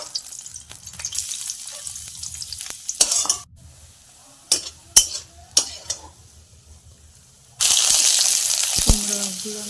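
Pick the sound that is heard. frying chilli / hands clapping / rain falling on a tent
frying chilli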